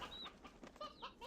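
Chickens cluck in Slime Rancher 2 with short, chirpy calls in a quick, uneven series. The calls sit moderately close and clear against a quiet background, and a louder burst ends the moment.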